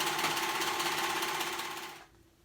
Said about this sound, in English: We're sewing them on just the same way, all 3 bands.